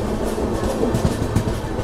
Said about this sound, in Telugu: మన ట్రైన్ వచ్చేసి బేగంపేటకి అయితే వచ్చేసింది